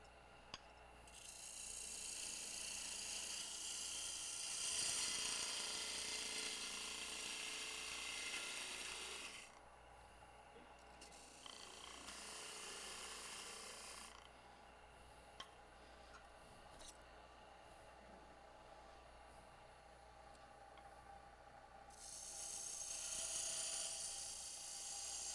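Steady raspy scraping of a bedan tool cutting spinning wood on a lathe, coming in long continuous bursts with brief quieter pauses between them.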